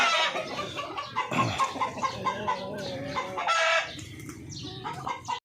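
Breeder chickens at a hatchery farm cluck and crow close by, a rooster's drawn-out calls rising over busy overlapping clucking and squawks, loud and lively throughout with no talk.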